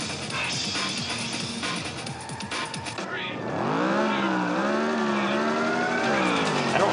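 A race car in the San Francisco Rush Alcatraz Edition video game roars through its gears with tire squeal and skidding early on, then a strong engine rises and dips in pitch while accelerating, close and loud.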